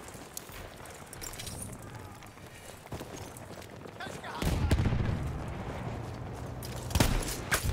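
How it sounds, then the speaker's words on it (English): Machine gun fire in the World War I shooter Battlefield 1, heard amid battlefield noise as sharp cracks and bursts, growing heavier and louder partway through with a strong burst near the end, under a busy game soundscape. "Did you know there's a machine gun up here in the attic?"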